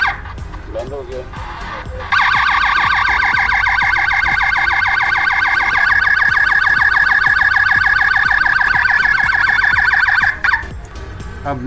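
Motion sensor security light's built-in alarm siren blaring up close, a loud rapid warbling electronic wail that switches on after a couple of seconds of handling noise, runs steadily for about eight seconds, then cuts off abruptly.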